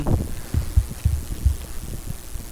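Horror video game Apeirophobia plays a heartbeat sound effect, a low muffled thumping repeating in steady pairs, moderately loud with no voices.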